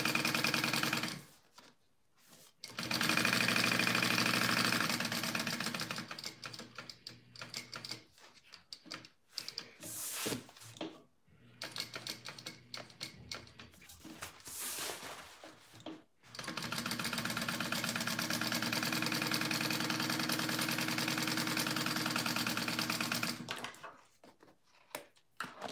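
A sewing machine stitches a zipper pocket on a fabric bag at a small stitch length, running in long steady bursts of rapid mechanical chatter separated by brief pauses, fairly quiet overall.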